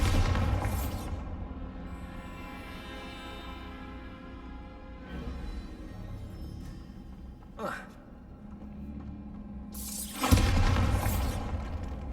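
Bombarda blasting spells exploding in the video game Hogwarts Legacy, two loud bursts with crackling debris over a steady game soundtrack, the second blast near the end being the heaviest.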